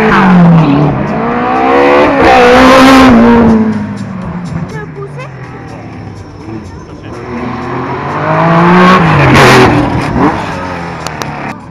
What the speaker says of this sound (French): comme cette Ford Mk1 RS 2000, numéro 204, celle de Bertrand Penay et Anne.